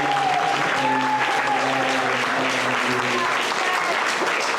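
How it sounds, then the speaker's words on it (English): Steady crowd applause at a student organization's event, loud and continuous, with a sustained melodic tone, likely music, running beneath the clapping. "Let's give a round of applause, guys."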